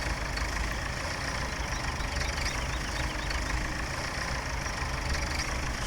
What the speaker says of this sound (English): Tractor emptying the potatoes in.